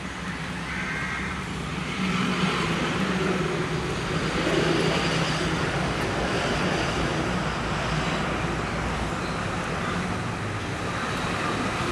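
Continuous roar of traffic on a highway beside DC Park in Chittagong, a broad steady rumble of passing vehicles that swells slightly, with no speech.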